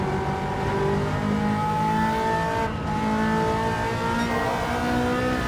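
A Ferrari F40 engine drones and revs continuously on the Nürburgring, a loud, sustained close-up roar with shifting pitch and a brief dip midway, no voices.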